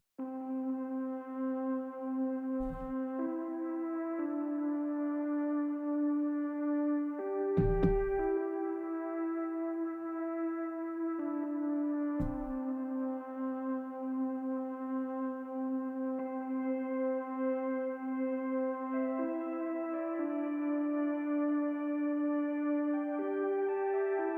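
A sustained synth lead with a brassy, trumpet-like tone plays a slow melody of long held notes, with a few short percussive hits underneath.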